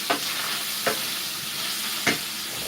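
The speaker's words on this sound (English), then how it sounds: "This one has been frying." Food sizzles steadily in a hot pan while a utensil stirs it, with three short scraping strokes over the constant frying hiss, close by and without speech.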